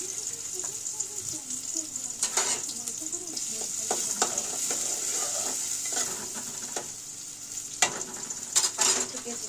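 Garlic dropped into hot oil for a rohu fish and eggplant dish, a bright continuous sizzle close by with intermittent spatula scrapes and clatters against the pan, someone talking over it.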